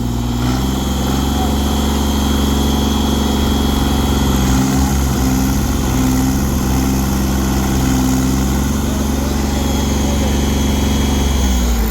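A tractor engine strains to pull a trolley during a towing job in a field, producing a loud, steady, droning rumble that holds throughout with little change.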